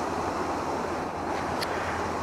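Turbulent, confused water on the Sheyenne River rushes in a steady broadband wash, with wind buffeting the microphone, continuous and close with no talk.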